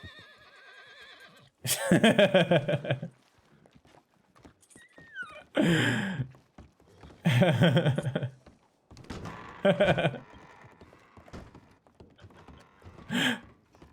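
A horse in a Wild West roleplay video game gives several loud whinnies and snorts at intervals, with hoof clip-clops and a few thunks between them, close and clear.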